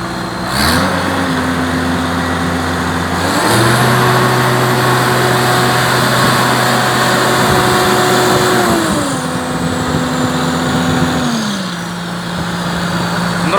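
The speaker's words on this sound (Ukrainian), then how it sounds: "Нравиться, звісно, цей звук кейса." A Case 2188 combine harvester's engine runs loud and close, revving up to a higher steady pitch, holding it for several seconds, then dropping back toward idle, alone without speech.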